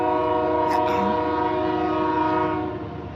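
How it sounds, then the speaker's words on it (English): A train passes on a cold day, a sustained horn blast holding several steady tones over continuous rail rumble. A brief voice cuts in early, and the horn fades toward the end. "There's the train."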